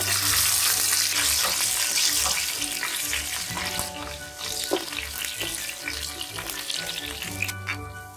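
Whole black peppercorns and garlic cloves fry in hot oil in a pan, a steady bright sizzle with a few scraping stirs, no talking.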